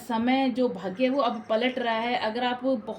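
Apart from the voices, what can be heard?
No distinct noise like a dog, phone or traffic.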